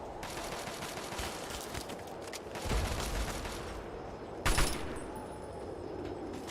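Gunfire in a Fallout game: sustained crackling shots over a noisy backdrop, with a heavier burst near the three-second mark and a loud sharp blast around four and a half seconds, then steady rumbling.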